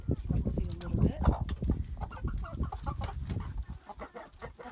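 Chickens cluck and peck at discarded kombucha scobies in a backyard flock, with busy close clucks and soft scratching taps over a steady low rumble.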